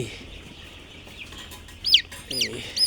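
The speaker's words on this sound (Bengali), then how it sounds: "এই যে আমরা একটা মুরগি ধরছি" A chicken being held for beak trimming, quiet at first, then gives several sharp, loud squawks and clucks close up in quick succession toward the end.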